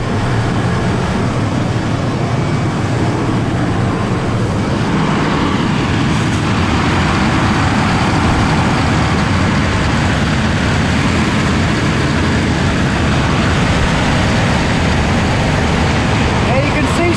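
Heavy equipment compressor booting up and settling near 1400 RPM, a steady, loud broadband engine drone with deep low rumble running continuously throughout.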